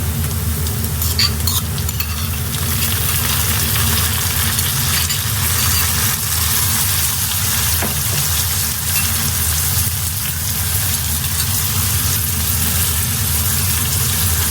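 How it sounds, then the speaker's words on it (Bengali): Dried kachki fish fries in oil with ginger garlic paste, giving a steady close sizzle with stirring and scraping and a low continuous background hum. "এখন দিয়ে দেবো আদা রসুন বাটা টু স্পুন"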